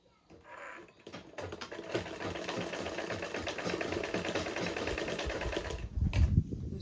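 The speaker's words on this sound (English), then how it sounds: "So I will be sewing down as well." A sewing machine stitches a basic bodice in one sustained, rapid run after a short start, with a soft thump near the end.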